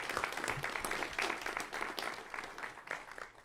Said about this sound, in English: That's the hand they deserve